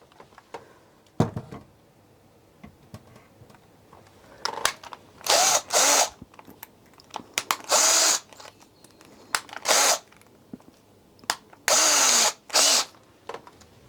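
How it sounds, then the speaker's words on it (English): A power screwdriver drives screws while a cabinet is built, several loud whirring bursts of about a second each, separated by short pauses and small handling clicks, close and with no talk. "Because I can just use a screwdriver."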